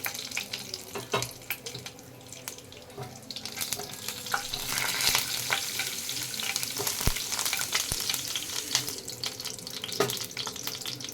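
Whole cardamom, cinnamon sticks, bay leaves and cumin seeds frying in hot oil, with a steady close sizzle and crackle and occasional sharp pops and spoon stirs throughout.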